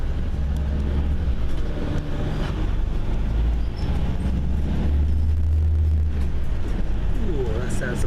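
A Wright Gemini bus engine rumbles loudly and close by, low and steady, with road and wind noise around it.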